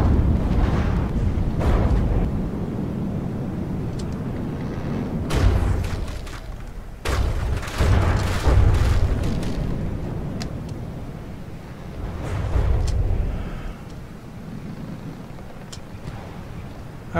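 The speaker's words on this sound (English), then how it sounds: "Those are torpedoes, I think. In which case, my sub may be in a world of hurt." Torpedoes exploding against a submarine in the naval combat game From the Depths: several heavy, low booms and thuds arrive in clusters, loud bursts of rumbling impact over a constant low drone, with no talking.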